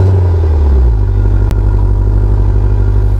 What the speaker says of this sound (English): Listen to the change in engine note.